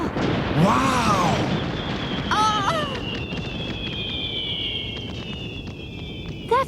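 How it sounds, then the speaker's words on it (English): Cartoon fireworks over the sea in a Moomin episode crackle and rumble, with whistling rising streaks and a steady roar that fade out gradually, while characters exclaim. "That's what I call fireworks."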